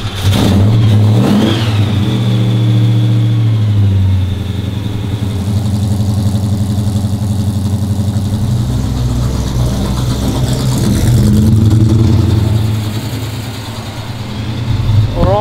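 A home-built car's engine drives and accelerates up close on its first drive, pitch rising and falling as it revs through gears, loud and continuous for the whole stretch.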